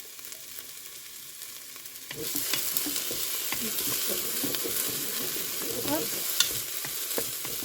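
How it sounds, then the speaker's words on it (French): Butternut squash pieces sautéing in a hot pan after shallots, a steady sizzle and frying hiss with stirring scrapes and clatter, starting abruptly and staying close; a short spoken word comes once early on. "Et je vais faire revenir aussi les butternuts un peu."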